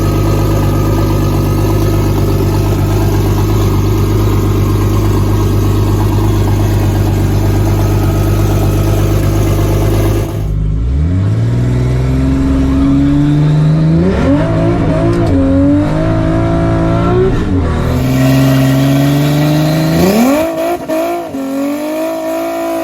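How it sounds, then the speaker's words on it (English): A drag car's engine idles in a loud, steady rumble, then gets hit hard and revs up in rising, climbing surges as it accelerates at full power, staying close and dominant throughout. "Give the car a little more power."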